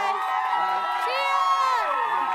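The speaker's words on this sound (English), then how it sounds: "you guys cheer the loudest for whoever you think won" A studio audience at a sports show cheers and whoops loudly and continuously, with young, high-pitched shouting voices blending into a sustained roar.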